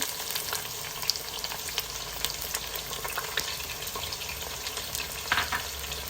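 Sliced onions and green chilies fry in hot oil in a pan, giving a continuous close sizzle with scattered sharp crackles and pops throughout, no voices.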